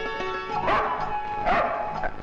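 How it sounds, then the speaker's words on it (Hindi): A dog barks and yips indoors, two sharp, close barks about a second apart over a steady background of music and noise. "अरे ये कुत्ता किसका है?"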